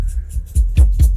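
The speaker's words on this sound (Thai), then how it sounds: "นี่คือเสียงเบสจากเบสบล็อกนะครับ" Deep, booming bass pulses from a Sub Mercury DSP 8.4 HD car subwoofer in a 2020 Toyota Prado thump in a loose rhythm, low and heavy, with faint high hiss between hits and no voices.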